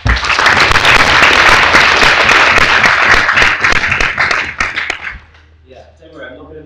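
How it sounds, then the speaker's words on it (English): A debate audience gives a sustained round of applause, dense and loud clapping for about five seconds before it tapers off, with faint talk as it fades. "I'd like one final round of applause"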